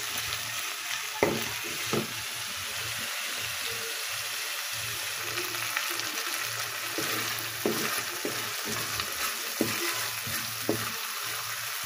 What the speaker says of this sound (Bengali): মশলাটা ভালোভাবে নেড়ে চেড়ে কষিয়ে নেব।